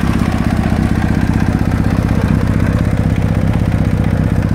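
A Kawasaki ZX7R (ZX750) barn-find motorcycle runs just after its first start-up, its engine a loud, steady, close mechanical drone with rapid rhythmic pulsing and clatter.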